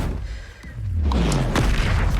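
The Incendio fire spell in the game Hogwarts Legacy is cast as a single loud, close burst: a whooshing rush that swells into a deep, rumbling boom.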